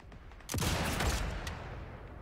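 A sniper rifle headshot in the video game Sniper Elite 5, a sudden loud blast followed by a broad roaring burst of noise that lingers and slowly fades.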